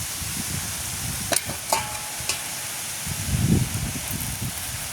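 Roti cooking on an oiled clay pan outdoors in a village, with a soft steady sizzle and hiss, a few light scraping taps, and a brief louder rustle as the bread is moved.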